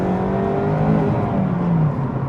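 A Mazda MX5 ND2 accelerates along a narrow British B road, its engine note droning and climbing steadily over constant road and tyre rumble heard from inside the car.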